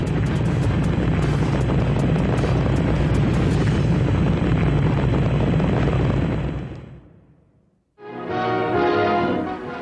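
Rocket engines roar at liftoff in a loud, dense, continuous blast that fades out after about seven seconds, followed by a brief silence before another loud roar begins.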